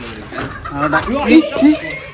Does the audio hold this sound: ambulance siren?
no